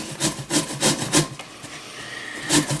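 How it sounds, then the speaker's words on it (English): Pears are rubbed against a grater for pear honey in a kitchen, making a series of rasping strokes in a steady rhythm, with a pause before one more scrape at the end. "And we grate our pears."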